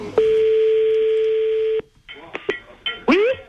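A telephone being dialed on a French TV show to call a contestant: a long steady tone, then a quick series of short keypad beeps, with a voice breaking in near the end.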